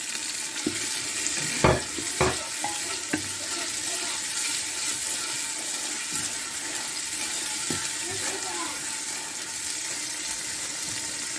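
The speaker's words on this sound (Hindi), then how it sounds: "अभी हम इसको भूनते हैं, फिर आपको दिखाते हैं।" Peeled tomatoes frying in a pan for restaurant-style chana dal, a steady broadband sizzle running throughout with a few sharp clinks of a spoon against the pan early on, close and fairly loud, with no talking.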